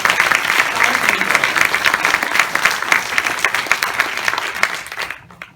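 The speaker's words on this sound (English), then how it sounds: "Join me in one last round of applause for all who have helped Encore" A large audience applauding at an anniversary program, dense sustained clapping that fills the room, then fades and cuts off at the end.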